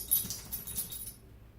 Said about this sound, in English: Shake it off, Max.